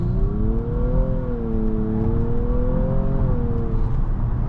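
A 2023 Nissan Maxima SR with a CVT accelerates from inside the cabin, a steady engine drone whose pitch rises, dips and rises again as the transmission mimics gear shifts, over constant road rumble.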